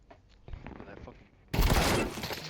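Dense burst of video game gunfire erupts loudly after a quieter stretch of muffled game sounds and chatter, sustained rapid shots filling the last second.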